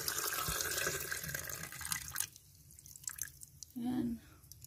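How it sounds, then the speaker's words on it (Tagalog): Coconut milk pours over cassava in a pot, first as a full, splashy stream, then thinning to scattered drips and trickles, with a brief voice near the end. "Punuin natin ng gata yung kamuting kahoy."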